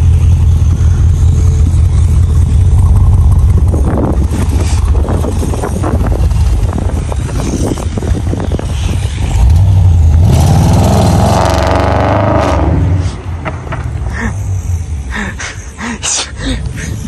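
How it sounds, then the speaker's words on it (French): Audi RS6 C7 fitted with an Akrapovic exhaust revving and accelerating in a parking lot, a loud deep engine roar rising then easing, with wind buffeting the microphone. "on va faire juste une petite accélération vite fait ici sur le parking"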